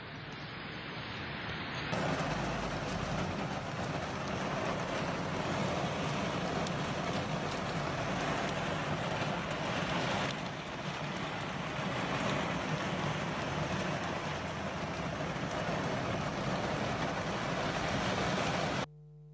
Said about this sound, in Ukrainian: На цих кадрах ви бачите, як у Збаражі падає град.